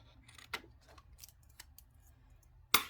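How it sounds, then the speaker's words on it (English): Scissors snipping excess paper from a floral daily planner sheet: a few crisp, close cuts spaced irregularly, ending in a louder final snip. "Trim off all the excess."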